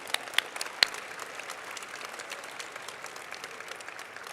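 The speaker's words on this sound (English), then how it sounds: "let's give these schools a huge round of applause" Applause from the audience at a high school science fair closing ceremony, a steady, soft wash of many hands clapping at a distance with a few sharper claps near the start.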